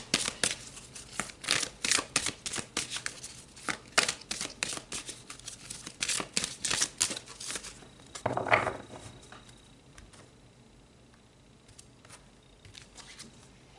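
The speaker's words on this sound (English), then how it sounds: "let's pull some more cards" Tarot cards are shuffled and pulled close up, making quick papery riffles and snaps that are dense at first. A soft crinkle follows, then the sound fades to near quiet.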